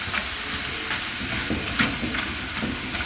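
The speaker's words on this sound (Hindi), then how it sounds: "बिल्कुल थोड़े थोड़े डाल के मैं फ्राई करूँगी" Crackers frying in very hot oil, a steady broad sizzle and hiss with small crackling bursts, close and continuous, no voices.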